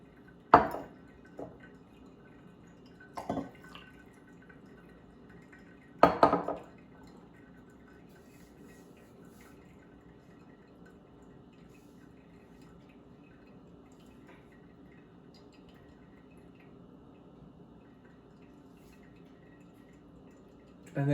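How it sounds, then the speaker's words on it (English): During pour-over coffee brewing with a Hario V60, hot water is tipped out of cups in a few short, quiet splashes and drips early on, then near silence for a long stretch. "While this last pulse is going, you can dump out the hot water from your cups."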